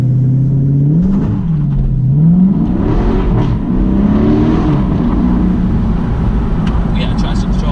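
A 2017 Dodge Charger Daytona accelerates hard with traction control on, the engine note rising through gears with a shift, loud and close from inside the cabin while people talk over it.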